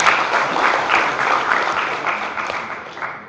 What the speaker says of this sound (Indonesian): Sekali lagi dong beri tepuk tangan untuk Pak Yayat.